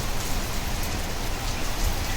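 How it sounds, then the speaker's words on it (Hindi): Heavy rain pours steadily onto a home's rooftop, a dense, close, unbroken wash of drops with no voices and no letup. "और देखो काफ़ी तेज़ बारिश है"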